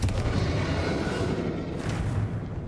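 Confringo, an explosive fire spell in Hogwarts Legacy, gives a steady rumbling blast with low booms that roll continuously for a few seconds, loud and close, with no talking.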